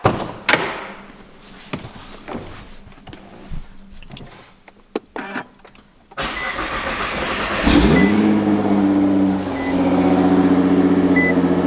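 Turbocharged car in the middle of a drive: clunks and door or window sounds at first, then the engine starts and settles into a loud, steady running drone close by.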